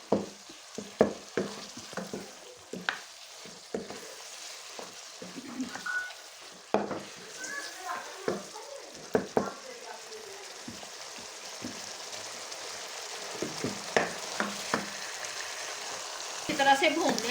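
Beef korma meat frying in ghee in a pot, a soft crackling sizzle broken by frequent sharp stirring knocks and scrapes, irregular and close, easing into a quieter sizzle toward the end.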